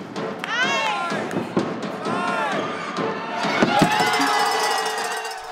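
A volleyball crowd erupts in wild cheering after a women's team wins the deciding fifth set 15:12 to clinch a second-division title, with shrieks, shouts and thumping noise rising and swelling throughout.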